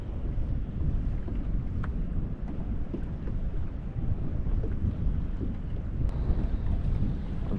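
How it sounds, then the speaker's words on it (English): Steady wind blows across an open boat while kayak fishing on the tide at Plymouth Sound, a constant loud rush with no let-up and no talk. "does a good job at muffling the wind a bit"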